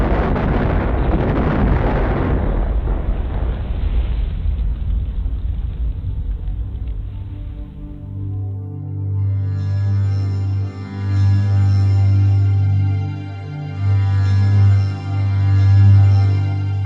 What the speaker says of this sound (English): bombs rained down on the island, destroying fuel storage tanks and aircraft hangars